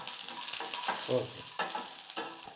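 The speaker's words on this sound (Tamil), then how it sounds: "இப்போ வெங்காயம் வந்து நல்லா வதக்கிக்கலாம் எண்ணெயில்" Small onions frying in oil in a clay pot for a country chicken curry, a steady sizzle with occasional stirring scrapes, close and moderately loud, no talking.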